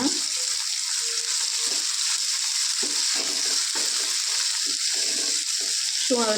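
Crushed ginger and garlic fry in hot oil for an egg curry, giving a steady broadband sizzle with a few stirring scrapes and low clatters throughout, close and fairly loud, with no talking.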